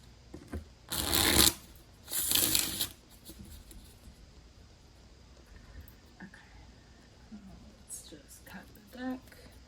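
A constellation oracle card deck is riffled and shuffled in two loud, close bursts, followed by quieter handling of the cards and a soft voice speaking.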